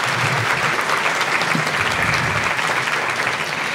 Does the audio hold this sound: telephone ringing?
no